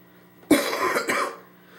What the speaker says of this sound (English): I'm so sorry about this coughing.